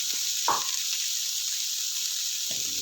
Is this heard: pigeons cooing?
no